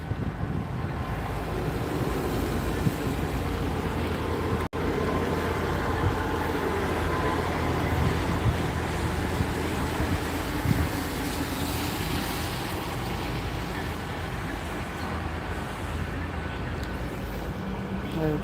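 A Class 158 diesel train passes through Gloucester station, a continuous rolling rumble heard from the platform with wind buffeting the microphone and a few faint voices in the background.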